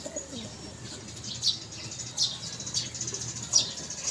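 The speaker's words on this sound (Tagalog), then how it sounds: "nga po pala ang ating nahuli na kulay puti na kalapati" Pigeons in a coop give soft, low coos under a few brief bursts of wing flapping, faint and close with quiet gaps between.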